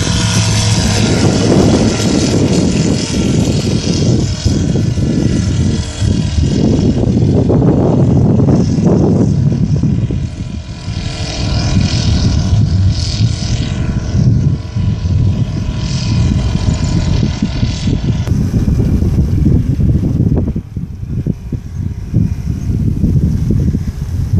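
A light propeller plane's engine drones steadily and loudly, its pitch shifting as it revs, continuous throughout with no voices.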